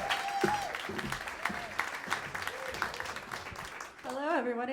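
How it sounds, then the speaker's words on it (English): An audience claps and cheers in a hall as a speaker is welcomed to the stage, with steady applause running under voices and a rising cheer near the end. "Clap it up for Sarah."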